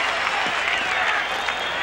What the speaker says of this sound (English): that brings the crowd alive here at Tampa Stadium